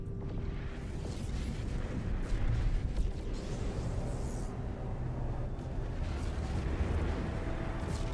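A frigate explodes in the space game No Man's Sky, giving a loud, sustained, deep roaring rumble with scattered crackling bursts that never lets up, and no voices over it.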